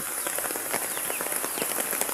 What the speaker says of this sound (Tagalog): Sobrang ulan kasi.